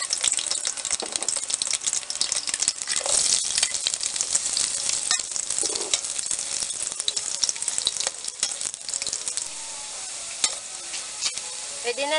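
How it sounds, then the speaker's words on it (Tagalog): Garlic and onion sauté in a pan with a continuous crackling sizzle and frequent stirring clatter. The sound grows quieter and calmer toward the end. "Gisahin natin yung ating bawang tsaka sibuyas."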